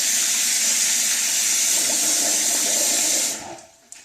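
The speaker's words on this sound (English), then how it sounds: "I'll just kind of rinse it off at this point." Tap water runs steadily to rinse a shaving razor at a bathroom sink, a loud continuous splashing stream that cuts off near the end.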